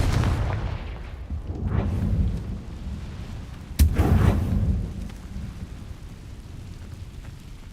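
Confringo blasting curse explosions in Hogwarts Legacy, heard as a rumbling boom that swells early on, then a sharp crack and a second deep blast near the middle, fading into a low rolling rumble.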